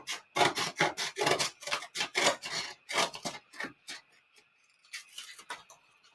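Scissors snip through a cardboard egg carton in a quick, rhythmic run of close, crisp cuts, then a few slower, scattered snips trailing off.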